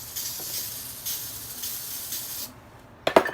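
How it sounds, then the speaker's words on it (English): Close, hissing bursts of buttery cooking spray from an aerosol can, several short sprays in a row, then a sharp clatter as the can is set down. "I'm using my buttery cooking spray."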